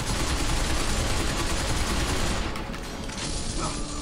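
Dense, continuous rapid gunfire from the video game Binary Domain, loud and sustained throughout with a brief dip near the end, and no talking.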